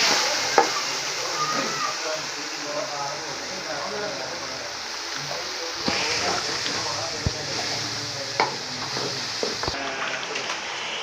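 Beef with ginger sizzling and frying in a pot during home cooking, a steady close hiss with occasional stirring clicks and a voice faintly in the background.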